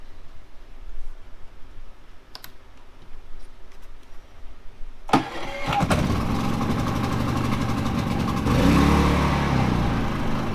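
A portable generator's engine starts up and then runs steadily at close range, a loud, even drone that swells slightly toward the end, following a few quieter clicks and thumps.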